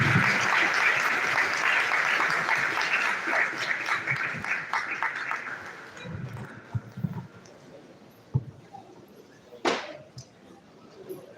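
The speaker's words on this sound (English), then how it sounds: "A round of applause for her indeed." Audience applause that starts full and gradually thins out, leaving a few scattered claps and a sharp bump near the end.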